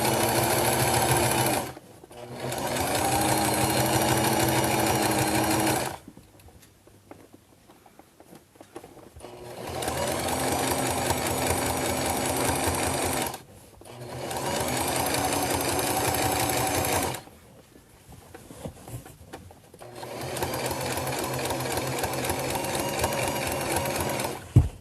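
Sewing machine stitching fabric in three long steady bursts of rapid mechanical whirring and clatter, close and loud, with short quiet pauses between runs.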